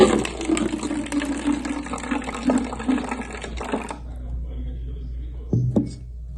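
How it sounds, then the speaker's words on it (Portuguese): Boiling water is poured into a PET bottle as a steady gurgling stream for about four seconds. It stops, then a short knock and splash follow. "primeiro nós vamos pegar um pouco dessa água fervendo e colocar dentro da"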